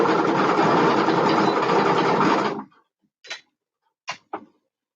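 A sewing machine runs steadily for about two and a half seconds while top stitching, a loud, continuous whir that stops abruptly, followed by a few short mechanical clicks and taps.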